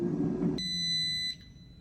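An air fryer sounds a single bright electronic beep as it starts, a clear sustained tone lasting under a second after a brief low rumble of handling, heard alone.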